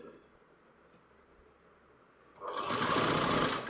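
A sewing machine stitches thread piping for a blouse, starting abruptly after a quiet pause and then running in a loud, steady whir close by.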